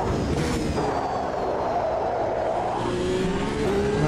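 Race car engine in a sim racing game whirring at steady high revs, with pitch sweeps as the brakes lock and the car slows, loud and continuous with no talk.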